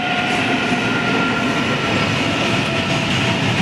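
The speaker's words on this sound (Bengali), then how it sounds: "ওই দেখেন একটা মাল গাড়ি আইতাছে তো জানি না কী মাল গাড়ি হ্যাঁ কিবা কিবি আছে এর মধ্যে দেখেন ট্রেনটা যাইতেছে" A freight train rolls past close by, a steady, loud rumble of wagons and wheels with faint rail squeal, continuous throughout with no talking.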